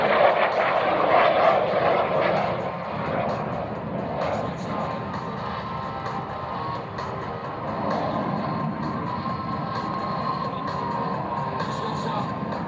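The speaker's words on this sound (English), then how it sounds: "Here's the MiG-17." A MiG-17 jet fighter flies past at an air show, inbound at about 350 miles an hour, producing a loud, sustained engine roar that swells early and then holds steady.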